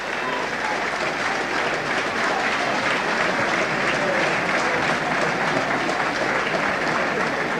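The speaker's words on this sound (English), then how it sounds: "Big round of applause for him." Sustained applause and crowd noise from spectators at a 2005 Laois senior hurling county final replay, a dense, steady roar of clapping that fills the whole stretch without letting up.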